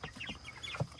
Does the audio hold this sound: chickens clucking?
yes